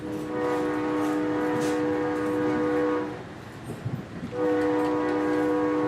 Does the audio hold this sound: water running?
no